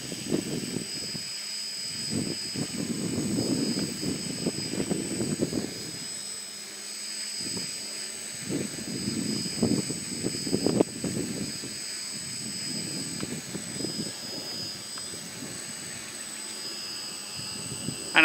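A GPS-guided quadcopter drone hovers steadily before auto landing, giving a continuous high-pitched motor whine with a low fluttering rotor wash that swells and dips irregularly, fairly close and alone throughout.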